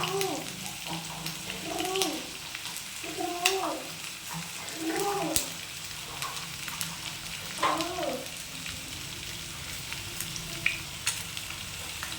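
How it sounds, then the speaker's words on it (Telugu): Onions frying in a pan for an egg dish, giving a steady close sizzle throughout, with a few brief chirping tones rising above it now and then. "ఉల్లిపాయలు కొంచెం వేగినాయి"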